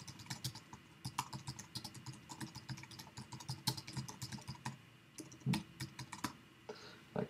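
Rapid typing on a computer keyboard, dense clattering keystrokes in quick bursts with short pauses, close and clear with no talking.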